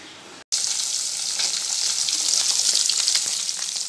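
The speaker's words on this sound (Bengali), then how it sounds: "মাছটা ভাজা বসিয়ে দিয়েছি," Fish fries in a pan with a loud, steady hiss and crackle that begins abruptly after a brief gap, close and continuous without speech.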